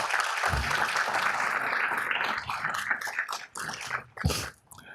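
Audience at a city council meeting cheering and applauding an award recipient, a dense sustained wash of clapping and cheers that thins out toward the end with a few scattered bursts.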